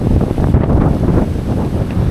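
Strong wind roars steadily against the microphone in Ceuta, at Spain's border with Morocco, a loud, constant rumbling buffet with no voices.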